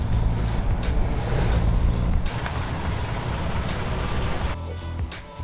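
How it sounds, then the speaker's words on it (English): A heavy vehicle rumbles past on a city street in the Philippines, with a loud, steady low roar and hiss that fade slightly toward the end, with no speech. "Moving car, man."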